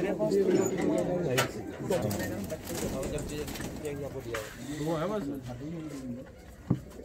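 Fancy pigeons in a pigeon collection coo in repeated rolling phrases close by, with a voice talking over much of the sound and a sharp tap near the end.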